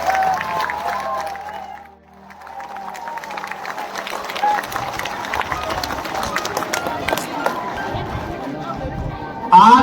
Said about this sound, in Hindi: दोनों हाथ खड़े करके ताली बजाओ